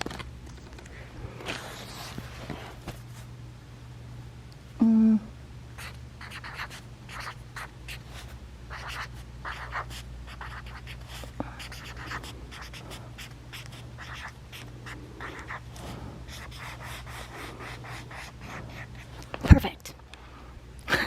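Pen scratching on paper in short bursts of strokes, faint and close, with someone talking softly between and over the writing and a couple of louder knocks.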